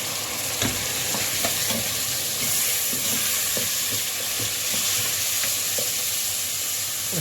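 Grated tomatoes stirred into onions frying with a cinnamon stick and bay leaves, a constant close sizzle and hiss with soft scraping stir strokes, no voices.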